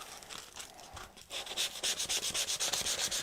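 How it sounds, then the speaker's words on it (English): Rhythmic rubbing strokes of a round sanding disc on an MDF board, a few softer passes at first, then steady, repeated back-and-forth strokes, close and fairly loud. "I've only got a round sanding disc."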